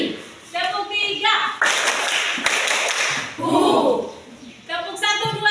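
Schoolchildren clap their hands in a counting clap game led by a teacher in a classroom, with bursts of claps between stretches of the teacher's voice.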